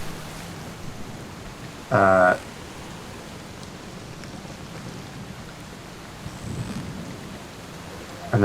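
Thunderstorm sound effect with a steady hiss of heavy rain and low rumbling thunder throughout, broken by a short loud burst near two seconds and another at the very end.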